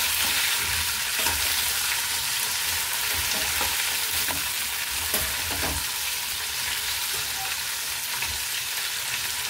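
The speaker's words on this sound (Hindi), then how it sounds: "अब हम भिंडी को डाल देते हैं, जो हमने भिंडी कट करी थी सभी को।" Sliced okra sizzles in hot oil in a pan with cumin and asafoetida, a steady close frying hiss with occasional soft scrapes of stirring throughout.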